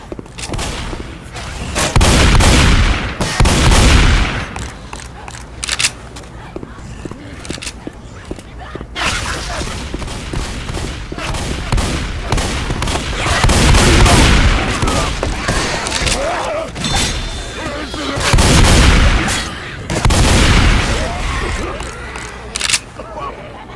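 Repeated bursts of gunfire in Left 4 Dead 2, loud volleys recurring every few seconds with shorter single shots between, over steady game noise and voices talking.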